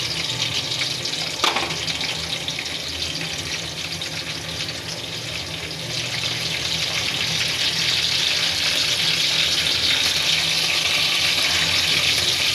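Whole cumin seeds and cinnamon fry in hot oil for a fish dish, a loud continuous close sizzle that grows slightly denser partway through, with a brief clink near the start and no talk.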